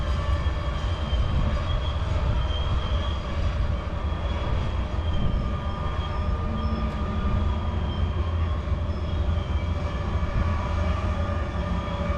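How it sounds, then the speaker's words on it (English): A freight train at Cajon Pass rumbles steadily while its brakes emit sustained high-pitched squeals and whines, loud and continuous, with no voices. "Listen to the sound of those brakes."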